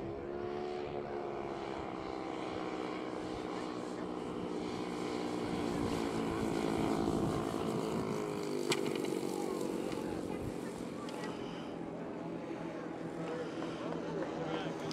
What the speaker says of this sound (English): And now he's coming in for a belly landing.